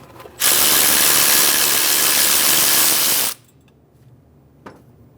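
A power ratchet or impact tool buzzes loudly and continuously for about three seconds while a 14mm bolt comes off the bracket atop the engine mount of a 2003-2008 Honda Pilot, then stops, followed by a faint metallic clink.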